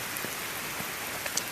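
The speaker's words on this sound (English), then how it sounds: "I don't really want to stand out in the rain as much" Steady rain falls outdoors in an empty area, a continuous even hiss of drops on surfaces with a few closer individual drips, no voices.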